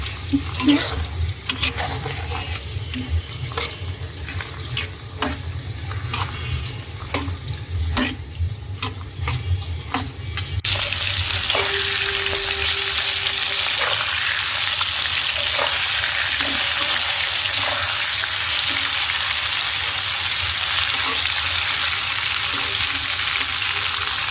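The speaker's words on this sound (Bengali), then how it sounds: "মাছগুলো ভাজা হচ্ছে" Tangra fish frying in a pan: irregular stirring clatter and crackle for the first stretch, then a loud, dense, continuous sizzle that fills the rest, close by with no voices.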